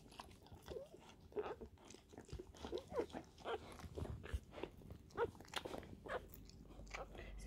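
Wet crunching and gnawing from a dog chewing through a newborn puppy's umbilical cord, irregular bites close by, with soft rustling and no talk.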